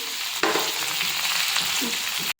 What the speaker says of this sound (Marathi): ह्याप्रमाणे आपण हे सर्व भेंडी आता याच्यात परतून घेणार आहोत